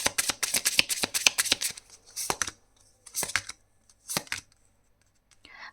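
Tarot cards are shuffled in quick, crisp riffling bursts up close, followed by a few separate flicks and slaps with pauses between them.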